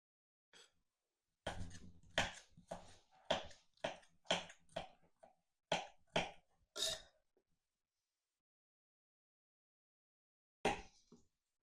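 A knife chops carrots finely on a board, roughly a dozen crisp, quiet strikes in a quick, uneven rhythm, then a pause before one last isolated cut.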